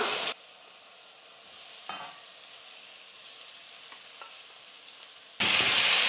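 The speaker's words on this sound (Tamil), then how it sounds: "ஸ்டவ்வை மீடியம் ஃப்ளேமில் வச்சுக்கிட்டு நம்ம மிக்ஸ் பண்ணிக்கலாம்" Soaked poha (flattened rice) with lemon juice stirred in a pan over a medium flame: loud sizzling bursts at the start and end, with quieter faint scraping and stirring in between.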